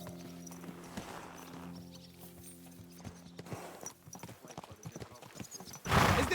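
A horse clip-clops along at a steady, moderate pace while being ridden in the medieval video game Kingdom Come Deliverance II, with soft creaking tack beneath. A louder rush of sound swells near the end.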